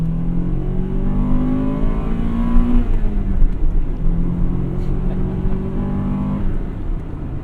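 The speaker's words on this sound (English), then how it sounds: "Love that sound, the Vtec kickover" A 1998 Acura Integra Type R's engine revs hard twice, the pitch climbing sharply as VTEC engages and then easing off between pulls, loud and close.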